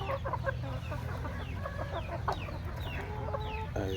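Domestic village chickens on a small farm cluck and chirp in quick overlapping calls over a constant low background hum, close by and without talk.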